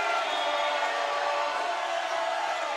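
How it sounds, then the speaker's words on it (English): Sustained crowd noise at a basketball game between the Hartford Colts and Buffalo Extreme, a loud, dense roar of cheering that holds steady throughout with no pauses. "that may be the loudest the crowd has got since the first half right here"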